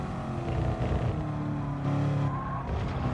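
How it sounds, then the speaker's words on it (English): A Corvette V8 in the racing game Gran Turismo Sport gives a steady, deep glugging engine drone with tire squeal over it, running continuously for a few seconds. "With that grunt of an engine glugging away."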